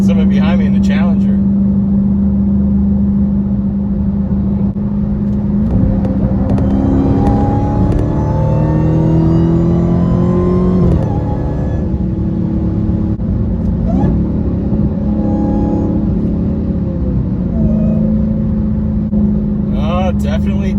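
A Dodge Charger Hellcat fitted with a Borla ATAK exhaust rumbles at idle, then revs and accelerates in rising sweeps before settling back, loud and close, with people talking over it.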